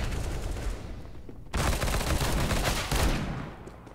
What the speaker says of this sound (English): I'm throwing a flashbang.